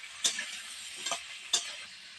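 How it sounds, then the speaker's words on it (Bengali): Potato, beet and eggplant pieces are stirred together in a pan for a village-style vegetarian curry, giving three brief, faint scraping strokes over a quiet, low hiss. "আলু বিট বেগুন এগুলো সব একসঙ্গে দিয়ে দেবো একটু নাড়াচাড়া দিয়ে নেবো"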